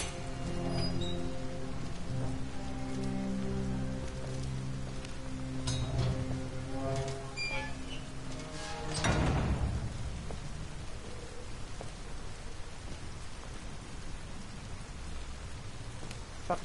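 Steady city rain in Detroit: Become Human, a constant hiss of falling water, with sustained musical tones and a brief louder swell near the middle.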